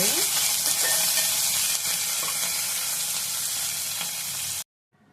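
A tempering of spices with curry leaves browns in oil over a low flame for a wood apple chutney, giving a dense, continuous sizzle with scraping stirring strokes that ends abruptly.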